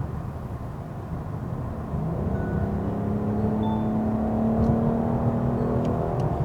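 Kia K8 with a 3.5-litre V6 and all-wheel drive under hard acceleration, heard from the cabin as a muted engine drone and whir that swells steadily, a rising tone carrying over quiet road noise.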